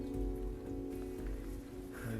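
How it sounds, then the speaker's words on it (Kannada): Steady rain falling on flooded paddy fields in a rice-farming village, a dense even patter with no voices. "ಮಳೆ ಜೋರು ಬಂತು, ಸೊ ಎಲ್ಲ ಡಿಸ್ಟರ್ಬ್ ಆಯಿತು, ಗದ್ದೆ ಕೆಲಸ ಎಲ್ಲ"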